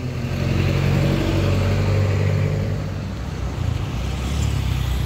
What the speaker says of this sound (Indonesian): Oke, masuk bus Sinar Jaya lagi bodi 63S.